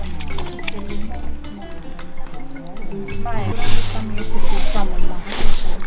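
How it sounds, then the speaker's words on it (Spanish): Hands are rubbed and washed with water and lemon leaves, producing wet squishing, sloshing and dripping sounds that build toward the end, with a voice talking over them. "Por primera vez en mi vida me voy a lavar las manos con hojas de agua de limón"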